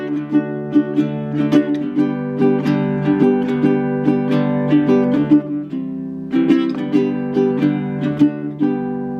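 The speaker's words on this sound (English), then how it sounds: "this is the largest of the ukulele family, and this one is actually more like a guitar than like a ukulele" Largest ukulele, four strings tuned like a guitar, played alone with steady plucked finger-pattern notes and ringing chords, a brief pause midway before playing resumes.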